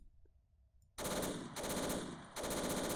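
MG15 machine gun fired from an aircraft gunner seat in ArmA 3, a quiet lull followed by loud sustained automatic bursts, three long rattling volleys with brief pauses between.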